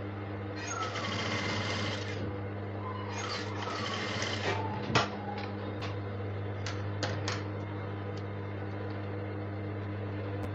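A sewing machine stitches fabric in short runs of fast, even mechanical clatter, two longer bursts then several brief ones, over a constant low hum with occasional clicks and a sharp knock between runs.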